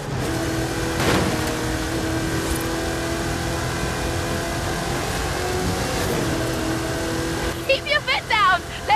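A car engine drives in Forza Horizon 5, a steady mid-level drone with a brief louder surge near the start and another around the middle, then quick bursts of talk cut in near the end.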